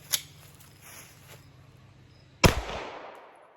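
A single sharp, loud report from an S&W M&P 2.0 Performance Center pistol rings out with a decaying echo, after a faint click and quiet outdoor ambience.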